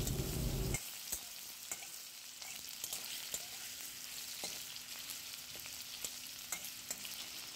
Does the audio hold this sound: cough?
no